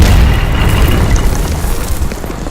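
Israeli artillery shells striking in Lebanon, heard as a loud, deep, rumbling blast that fills the air and slowly decays over a couple of seconds, with no voices.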